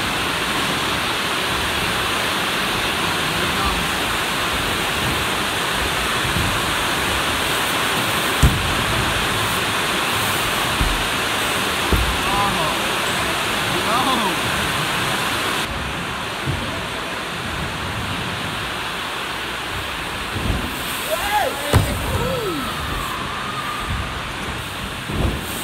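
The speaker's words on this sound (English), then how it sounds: "it's bloody pouring outside right now" Heavy rain pours outside, a loud, constant broadband wash like a downpour with scattered thumps and brief clatters over it, no voices heard.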